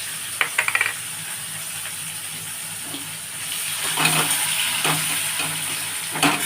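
Thick-sliced onions and green chillies sizzle and fry in hot oil in a pan for fish curry, with a steady crackle throughout and a few spatula clinks and stirring scrapes, louder toward the end.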